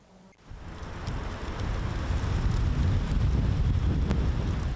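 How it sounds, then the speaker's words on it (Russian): Strong gusty storm wind during a dust storm in Omsk, Russia, buffeting the microphone: a brief quiet start then a sudden surge into a loud, sustained roaring whoosh with low-frequency rumble, no voices. "Город накрыла пыльная буря, штормовой ветер ломал деревья"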